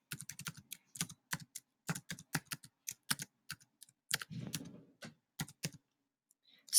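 Fingers type a file title on a computer keyboard in short bursts of crisp clicks and key taps, irregularly spaced with brief pauses, close and fairly quiet over a silent background.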